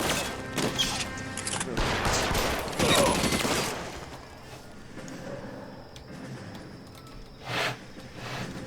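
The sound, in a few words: gunfire shooting at the player in video game L.A. Noire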